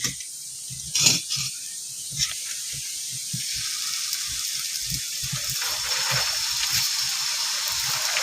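Wheat flour batter poured onto a hot iron tawa, a steady hiss and sizzle that builds and holds, with soft scattered clicks underneath.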